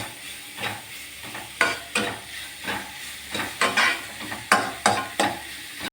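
Sweet elanji filling being mixed in a pan, a rhythmic series of close, scraping stirs with a soft sizzle beneath, each stroke rising and falling in an uneven repeating pattern.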